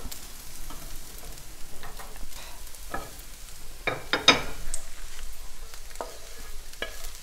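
Kale cooking in a frying pan gives a soft, steady sizzle with occasional stirring and scraping clatter, fairly close and moderate in level, with no voices.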